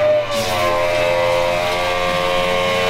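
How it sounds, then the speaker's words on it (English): A water pump for an ice bath runs with a loud, steady mechanical whine and hum, continuous at close range, droning without pause. "If you need a water pump that'll make you go deaf"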